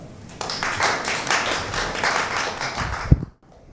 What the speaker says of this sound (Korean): 다시 한번 고생한 핸드폰 피플 팀한테 박수 한번 부탁드리겠습니다